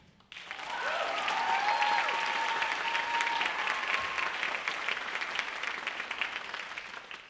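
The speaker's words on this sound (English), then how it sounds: "If we could take a moment and give a round of applause and acknowledgement to this collaboration" An audience at an anniversary stage show claps in a sustained round of applause, with a whistle early on, holding steady before slowly tapering off.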